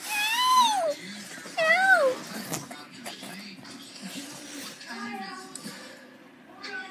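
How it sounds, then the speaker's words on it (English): A cat gives two rising-falling meows close by, followed by softer mewing and quiet voices talking in the background. "That sounds a lot like his meow."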